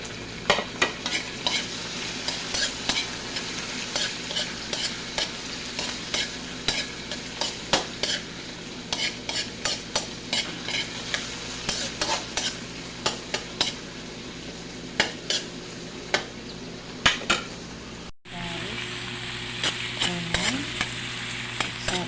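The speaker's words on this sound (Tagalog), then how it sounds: "ilalagay na natin yung kamatis para masabay sa sibuyas ang pagluto" Tomatoes and onions sautéing in a pan while being stirred, a steady close sizzle under repeated scraping and clinking of a utensil against the pan, continuing throughout with a brief break near the end.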